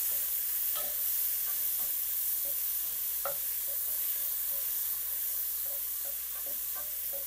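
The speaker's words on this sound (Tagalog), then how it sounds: "let's saute our aromatics, our ginger, garlic, and then tomato, and lemongrass" Ginger, garlic, tomato and lemongrass sauteing in a pan, a steady close sizzle with intermittent scraping stirs of a utensil against the pan, no talking.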